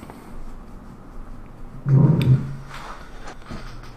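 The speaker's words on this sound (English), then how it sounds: "See, there are dogs here too. God, I can hear them." Dogs bark and whimper as enemies in the survival horror video game Resident Evil 2, heard as a short, muffled burst in the middle of a steady background hum of game ambience.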